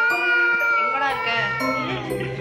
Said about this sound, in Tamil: ஏய் பூனை சத்தம் கேக்குதுடா.